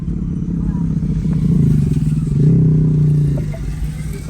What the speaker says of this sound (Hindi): ये बाइकर हैं और घूमते फिर रहे हैं।